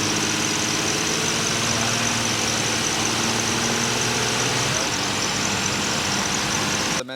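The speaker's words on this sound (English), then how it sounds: "Let's jump in this thing, take it for a test drive, see if we can't recreate that sound." A 2018 Ford Explorer with a 3.5 liter V6 engine on a test drive, giving a steady, close engine hum and road drone that continues without a break, with no talking.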